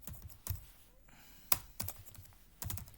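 A computer keyboard is typed on in a few separate, sharp, close keystrokes and short clusters with quiet gaps between them.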